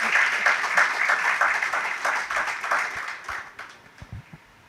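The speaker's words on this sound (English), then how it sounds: "Let's give Justice Pariagsing another round of applause." A lecture audience at an Eastern Caribbean Supreme Court event applauds Justice Pariagsing, with a full round of clapping that thins out and fades over several seconds as a few last claps and murmurs trail off.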